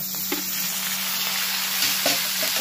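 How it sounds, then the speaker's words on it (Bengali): Chopped onion and tomato fry in a hot pan, giving a steady, dense sizzle throughout with a few soft stirring knocks, close and continuous, with no voices. "পেঁয়াজটাকে ভালো করে ভেজে নিচ্ছি। এবার দিয়েছি টমেটো,"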